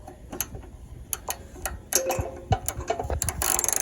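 A ratchet with an extension and a 6-point 12mm socket works a plastic carburetor nut on a Honda GX240 engine, giving rapid close clicks in quick bursts with small metallic knocks between them.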